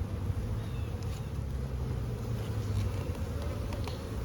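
Honey bees buzz steadily around an open beehive frame, a dense close drone that holds for the whole few seconds with no talking.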